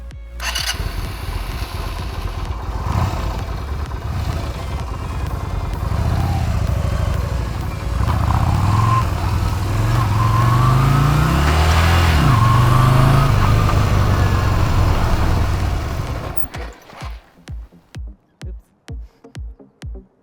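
Yamaha motorcycles at a beginner riding lesson fire up and ride off, engines droning and revving loudly for a long stretch, then settling into a slow, evenly pulsing idle putter.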